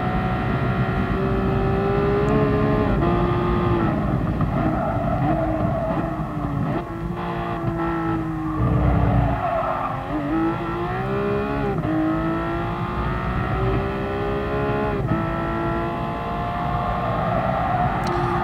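Race car engine in the GT Sport video game, a loud continuous whine that rises and falls with revs as the car loses grip and spins, with brief tyre noise.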